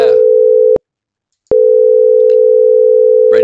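Steady synthesizer oscillator tones from a Whitney Music Box imitate telephone touch tones: a loud, pure sustained tone, a sharp cut to silence for under a second, then the same tone resuming until the end.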